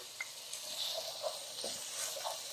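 Chicken pieces sautéing in a pot for chicken kabsa as mashed garlic is stirred in, a steady close sizzle with occasional scraping stirs and small pops.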